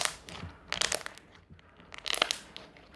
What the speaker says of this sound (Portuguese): ela faz clique, é uma fluffy slime